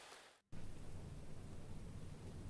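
Steady rain falls through the night, a dense, even hiss with low rumbling underneath that continues unbroken after a brief drop-out at the start, with no voices.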